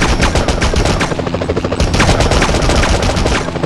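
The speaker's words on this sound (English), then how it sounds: "Enough with the shooting already!" Rapid bursts of gunfire from the Spider-Man (2000) PS1 video game, loud and dense and repeating steadily for several seconds with no one speaking.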